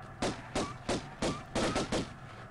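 Rapid gunshots in a Windows 98 video game crack in quick succession, about seven sharp bursts in a steady rhythm, fairly quiet and close.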